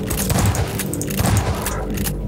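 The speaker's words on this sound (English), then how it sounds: "Shotgun." Shotgun fire in the video game Half-Life 2, loud booming blasts with heavy low-end thumps in quick succession amid ongoing game noise.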